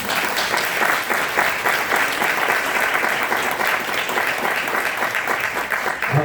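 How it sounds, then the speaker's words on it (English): An audience at an author talk on Chronicles of Ori applauds its speakers with a steady, fairly loud burst of many hands clapping that holds throughout. "Please give a round of applause for our speakers."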